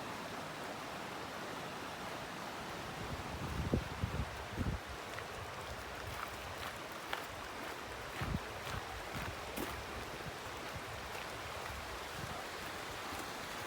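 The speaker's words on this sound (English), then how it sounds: "Right down there we got the creek." Water rushes in a woodland creek seen from a trail, a soft, constant wash of broadband noise with a few faint knocks and footstep-like taps over it, heard from some distance.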